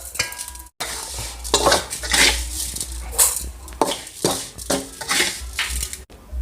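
A spoon scoops stir-fried rice into a metal rice pot, scraping and clinking repeatedly, with rustling, scooping strokes and faint clatter close by.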